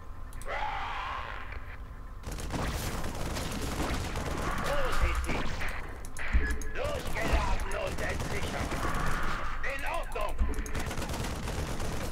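Rapid gunfire from a StarCraft 2 arcade game bursts and rattles throughout, dense and loud, with repeated volleys and game effects layered under occasional talk.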